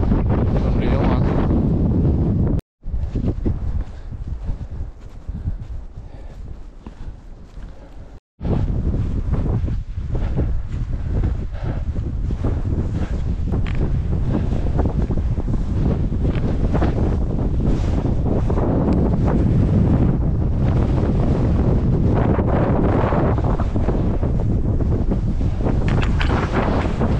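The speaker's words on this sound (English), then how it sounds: "It was windy at parts today, but didn't say it was this strong." Strong wind buffets the microphone on a fell summit near Whin Rigg above Wastwater in the Lake District, a loud, continuous roar with gusting surges and two brief dropouts, no speech heard.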